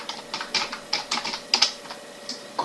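Rapid typing on a computer keyboard while a column name is entered in a spreadsheet, with irregular bursts of close, crisp key clicks and brief pauses between them.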